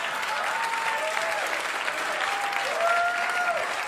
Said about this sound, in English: And judging by your applause